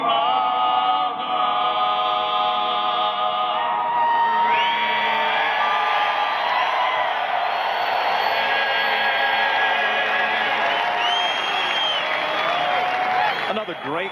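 A large crowd at Bristol Motor Speedway for a NASCAR Craftsman Truck Series race whoops, yells and cheers loudly and continuously, with the sustained roar swelling and running for the whole stretch.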